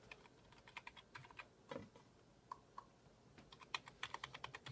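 Quiet clicking of computer keyboard keys on a newly built gaming PC, irregular bursts of taps speeding into a faster run near the end, close and faint, with no voices.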